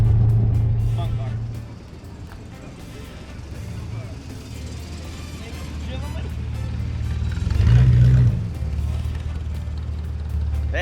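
A car engine idles with a low, steady rumble and a brief louder swell near the end, under men's conversation in a garage.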